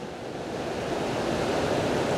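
Waterfall water pouring down after heavy rain makes a dense, constant hiss and roar, close and loud, building slightly and holding steady.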